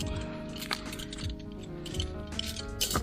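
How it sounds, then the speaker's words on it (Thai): Scissors snipping through a plastic nursery bag around a guava seedling, a run of small crisp cuts with faint crinkling and clicks, quiet and close with no talk. "ตัดถุงต้นพันธุ์ฝรั่งเรา"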